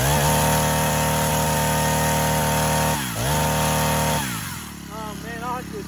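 A poorly tuned chainsaw runs loud and close, its buzzing whine holding steady, then dipping sharply and recovering before dropping to a rough, uneven idle, with talk toward the end.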